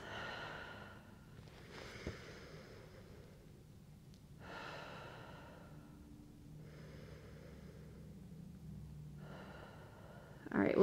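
Slow breathing during a Pilates reformer stretch, in through the nose and out through the mouth. Several soft, airy breaths are spaced evenly apart and heard alone, with a louder bump at the end.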